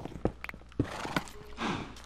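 Minecraft horses nearby, hollow clip-clop hoof thuds in an uneven few steps mixed with snorting and a brief whinny, fairly quiet over a faint background.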